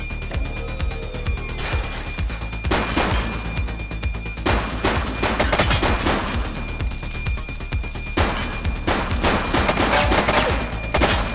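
Sustained gunfire in the police game The Precinct: rapid volleys of shots and bursts repeat loudly throughout, with a steady bed of mechanical game noise underneath.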